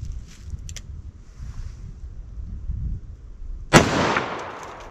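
A single loud .44 Magnum revolver shot, firing a 240 grain XTP round into wood, cracks sharply near the end after quiet outdoor wind noise, followed by a decaying boom.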